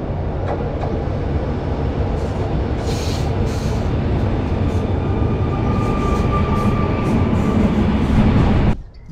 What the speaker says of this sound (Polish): zaczyna się na stacji kolejowej, kończy się na stacji kolejowej